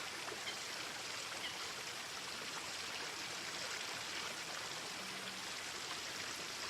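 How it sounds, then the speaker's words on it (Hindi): A steady stream of water flows and rushes continuously at low volume, a uniform wash of noise with no voices over it. "अब पानी आ गया है"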